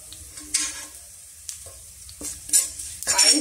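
Asafoetida, ginger and garlic fry in coconut oil for a rose apple pickle, giving soft sizzling under brief stirring scrapes and clinks, close and fairly quiet.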